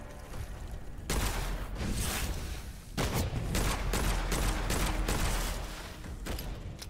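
Sustained bursts of gunfire from a weak gun in an indie shooter game, rapid and dense shots that run almost continuously for several seconds, with a brief gap near the start and another near the end.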